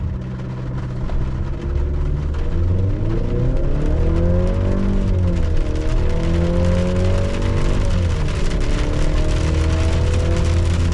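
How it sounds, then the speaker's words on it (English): A 2026 Chevrolet Colorado Z71 pickup in four-wheel-drive auto launches from a brake rev at about 5,200 feet density altitude, its loud engine climbing in pitch through several upshifts. "This 2026 Colorado Z71 does not have a sport mode, but we do have 4-wheel drive auto. We're gonna do a brake rev."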